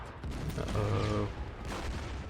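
Artillery fire in the strategy game Order of Battle hits units on the map, a muffled rumbling barrage of booms over about two seconds, dense and fairly loud.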